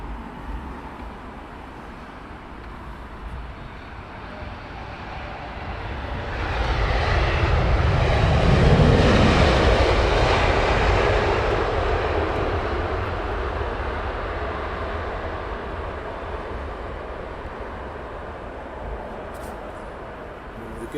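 A Qantas airliner lands on Heathrow's runway 27R, its jet engine roar swelling from a distant rumble to a loud peak as it passes, then fading slowly into the background.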